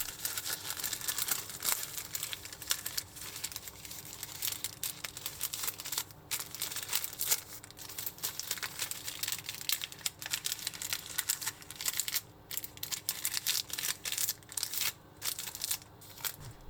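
Cooking paper being folded and cut with scissors in a kitchen, a close, steady stream of crinkling, rustling and small snipping clicks, fairly quiet and with no talking.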